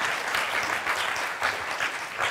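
Steady audience applause at a presentation, a dense wash of many hands clapping continuously, moderately loud and unbroken, with no voices standing out.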